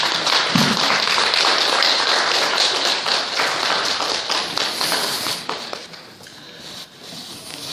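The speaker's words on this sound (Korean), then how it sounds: "큰 박수로 맞아주시기 바랍니다" Audience at a talk on native seed preservation applauds to welcome a guest speaker, a dense, steady wash of many hands clapping that fades slightly toward the end.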